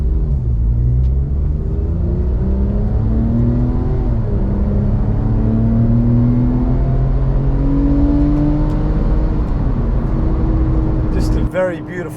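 A Porsche 911 Carrera 997.2 engine and exhaust rev hard, the note climbing steadily toward about 6,000 rpm in a loud, continuous rising drone that cuts off abruptly near the end.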